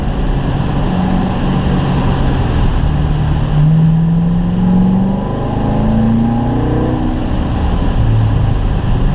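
A Corvette on a racetrack at a driving school runs at full throttle, its engine note climbing in pitch through the gears, loud and continuous with no talking.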